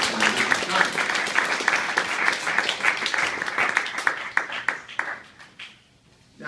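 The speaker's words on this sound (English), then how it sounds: "Let's give a round of applause to Councilman Richard Conlin." An audience applauds a Seattle councilman at a candidate debate: dense, sustained clapping from many hands that thins toward the end and fades to near silence.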